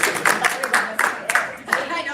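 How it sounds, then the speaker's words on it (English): An audience gives itself a short round of applause, with scattered, uneven claps mixed with voices talking over them. "give yourselves a round of applause"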